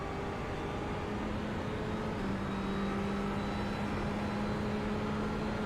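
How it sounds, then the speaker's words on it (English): GT race car engines in the iRacing sim at Daytona International Speedway's 2.4-hour Sportsman Series race, a steady high-pitched drone holding a sustained tone throughout, with no talk. "I like the way these cars sound, too. They got a high pitch one."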